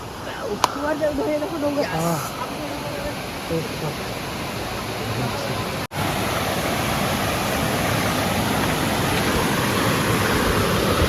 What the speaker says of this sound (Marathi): हा पाणी इथून असं चालले तो खाली